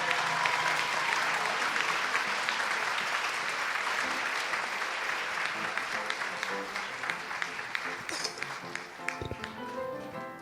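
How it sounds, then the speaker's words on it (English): An audience at an awards breakfast applauds a group of inspirational singers, sustained dense clapping that carries on throughout and thins slightly near the end, with a few louder claps and faint voices underneath. "Let's give them another big round of applause."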